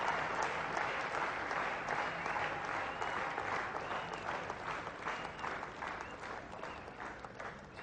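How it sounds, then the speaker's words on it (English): Cricket crowd at a Test match between Sri Lanka and India applauding a batsman: distant, sustained clapping from a large stadium audience, steady and even throughout, with no talk over it. "So the crowd really backing up Russell Arnold"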